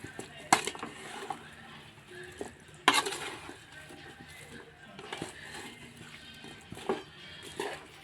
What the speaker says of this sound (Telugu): ఒకసారి మిక్స్ చేసేద్దాం